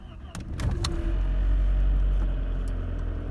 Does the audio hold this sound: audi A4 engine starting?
yes